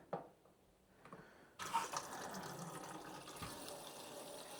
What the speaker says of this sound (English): the water's starting to fill that tray